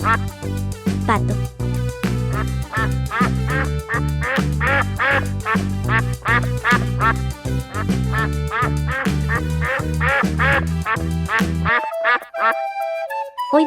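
Loud, rapid duck quacks repeat almost nonstop over a bed of background music, then break off near the end as the music carries on alone.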